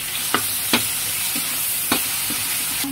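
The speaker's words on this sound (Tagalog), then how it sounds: "Lagay natin sibuyas, kamatis, yung bagoong." Onion, tomato and shrimp paste stirred in a hot pan for chicken binagoongan, giving a loud, steady sizzle with several sharp scrapes and knocks of the spoon against the pan.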